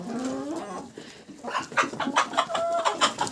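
Chickens clucking close by in a short burst of repeated calls, with a higher squawk near the end.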